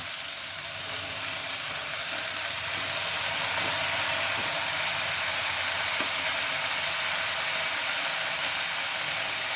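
Spinach hits a hot pan of fried vegetables and sizzles in a dense, steady hiss, close up, with a few faint clinks and stirring noises underneath and no talking.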